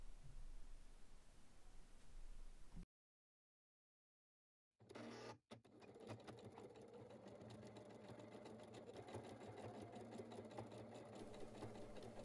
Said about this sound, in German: Bis zur Markierung nähen und dann dort verriegeln.